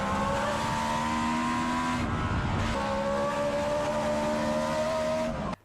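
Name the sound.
BRM V16 racing car engine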